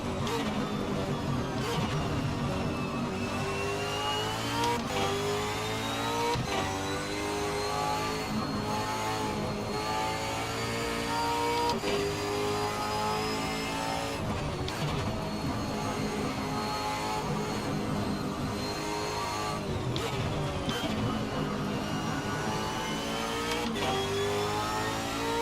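Supercars racing at Tamiami Park in Assetto Corsa: loud, continuous engine roar with rising and falling revs, repeated gear-shift sweeps and overlapping cars, sustained throughout with no talk.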